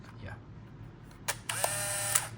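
A Konica MT-7 film camera gives a sharp shutter click, then a brief motorized whir as the film advances, fairly close and distinct, with faint room noise before.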